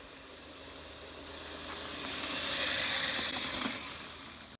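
A Razor kids' electric dirt bike rides by with a steady, high, hissing whine that swells louder toward the middle and then eases off, with no voices over it.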